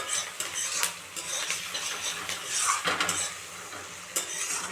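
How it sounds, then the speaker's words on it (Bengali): Onions fry in a pan as a utensil stirs them, giving repeated scraping and clinking strokes over a soft, continuous sizzle, heard up close with no voices. "পেঁয়াজটা ভাজা হতে হতে"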